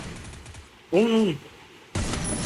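Gunfire bursts in the video game Free Fire come in short, loud clusters around a tonal in-game sound effect, while a player shouts excitedly over the action.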